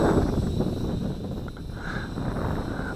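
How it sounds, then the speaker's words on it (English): Wind gusting across an open field where a Moontop M9916 micro drone is flown, a dense rushing buffet on the microphone with a faint high whine, steady and moderately loud with no voices. "That wind is picking up."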